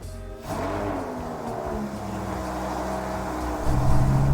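A Lamborghini Huracan LP580-2 fires up with a loud starter burst, then settles into a steady, close rumbling idle that swells louder near the end as the revs rise.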